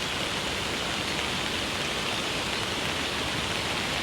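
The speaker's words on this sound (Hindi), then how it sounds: "तो यहाँ बहुत ज़्यादा बारिश आ रही है" Heavy rain falling in Himachal, a dense, continuous hiss of downpour filling the scene evenly with no voices over it.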